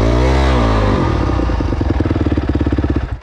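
An enduro motorcycle stuck in mud on a rainy ride revs hard, then drops into a rough, pulsing idle. Close and loud, with no talk.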